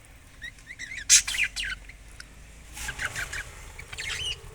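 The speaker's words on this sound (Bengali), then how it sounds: "এই যে পাখিগুলো" Several birds perched together, a parrot among them, give bright chirps and tweets in short bursts, with one loud call near the start and a busier flurry later, over a quiet background.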